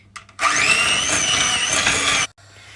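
An electric hand mixer beats butter in a bowl for an almond cake, giving a loud, steady whirring whine for about two seconds after a couple of soft knocks, then cutting off.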